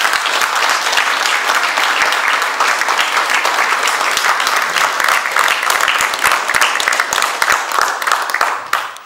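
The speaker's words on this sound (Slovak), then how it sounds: "si určite zaslúži ešte jeden potlesk" A large indoor audience applauds warmly at a memorial gathering, dense sustained clapping that fills the room and tapers off at the end.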